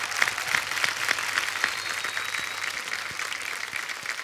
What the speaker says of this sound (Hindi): एक बार जोरदार तालियां अजय अतुल जी के लिए